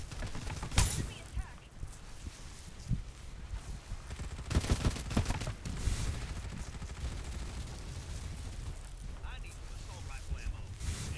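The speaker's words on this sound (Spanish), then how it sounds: "Me van a disparar." Gunfire in the battle royale shooter Farlight 84 comes as several sharp, quick bursts near the start and middle over a quiet game background, with a person talking.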